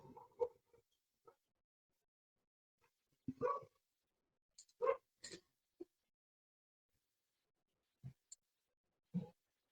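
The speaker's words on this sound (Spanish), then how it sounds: "Ignoren ustedes el perro." A dog barking indoors, a handful of short, scattered barks and yelps with long silent gaps between them, near and moderately loud.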